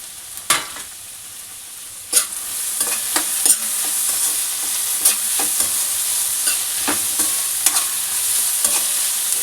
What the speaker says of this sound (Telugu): ఇప్పుడు వెజ్జీస్ ఫ్రై అవుతున్నాయి కదండి, క్యాప్సికమ్ వేస్తున్నాను.